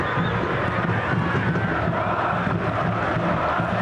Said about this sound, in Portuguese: O som ambiente é o tempo todo, sem parar, da torcida do Santos